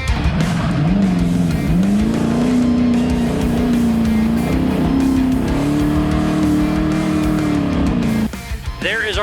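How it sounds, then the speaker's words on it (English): An Ultra4 off-road race car, a Trip Fab two-seat IFS machine, runs a desert course in Baja; its engine drones and shifts pitch steadily throughout, with a commentator talking over it. "So Bailey Cole out on course, another Nitto athlete running the Yukon livery and that Trip Fab 2-seat IFS machine."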